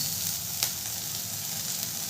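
Onion frying in a pan with grated ginger and garlic for aloo paratha filling, a steady close sizzle throughout with one soft stirring scrape midway.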